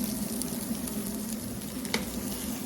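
Pre-fried smoked tofu crisping in a hot pan, a dense, loud, continuous sizzle and crackle close up with a brief stir, no voices.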